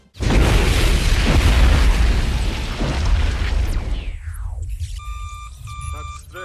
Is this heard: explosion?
yes